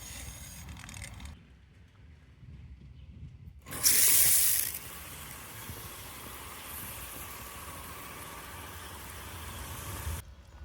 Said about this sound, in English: Get some water flowing.